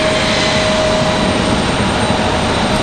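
An Icelandair Boeing 737 MAX 8 arriving from Reykjavik at Raleigh-Durham, loud close jet engine roar with a steady high whine running through it, continuous and unbroken.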